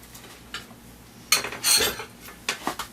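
A pan and plate clatter while Norwegian pancakes are flipped: sparse metallic clinks and scrapes, then a louder burst of dish and cutlery rattling, then a few more knocks, all close and with no talking.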